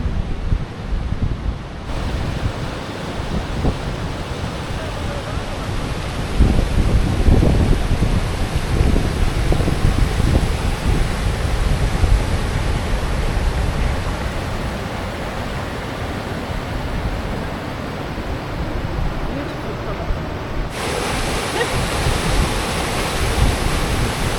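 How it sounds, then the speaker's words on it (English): Rapids in a crystal-clear river near Osorno volcano in Chile make a steady, loud, broadband rush of water that lasts the whole time without a break. "There's one part of rapids here."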